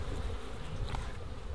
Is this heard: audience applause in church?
no